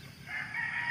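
Chickens cluck and crow briefly, close by and fairly clear, with a steady background hum.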